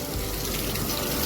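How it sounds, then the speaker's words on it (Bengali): Heavy rain pours down outside during a storm, a steady dense wash of noise with gusty wind, close and continuous without any voices. "বাইরে প্রচণ্ড হাওয়া দিচ্ছে, ঝড় ছাড়ছে, আর বৃষ্টি হচ্ছে"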